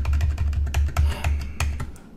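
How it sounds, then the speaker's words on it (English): Quick, uneven keystrokes clatter on a computer keyboard during a lecture, a close and steady run of clicks with no talking over them. "where's my keyboard here?"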